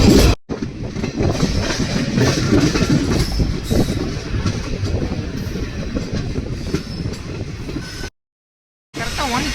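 A MEMU express train rumbles steadily along the rails between Dindigul, Palani and Coimbatore with a continuous clattering roar, close and loud, cutting off abruptly near the end before resuming.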